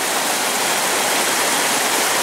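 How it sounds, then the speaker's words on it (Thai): Tad Yueng waterfall pouring in a steady, dense rush of falling water, loud and close, a continuous broadband roar with no breaks and no voices. "น้ำตก"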